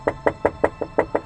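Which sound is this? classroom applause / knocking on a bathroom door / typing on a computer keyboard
knocking on a bathroom door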